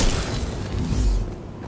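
A grenade bursting in Halo 2, a deep rumbling boom rolling under a dense wash of noise and fading out over a second or so.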